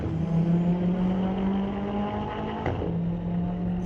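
A turbocharged K20-swapped 1973 VW Beetle at a street-legal drag strip drones loudly at steady high revs, with a sudden shift or lift near the end before the engine note settles again.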